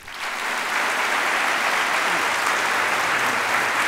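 An audience at the Landon Lecture Series breaks into sustained, dense applause welcoming General Martin Dempsey to the podium. The clapping rises quickly and holds steady and loud throughout, with no talk over it.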